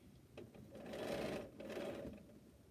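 A sewing machine stitches pieces of a Bonnie Hunter mystery quilt in one short, faint, continuous run that swells slightly in the middle.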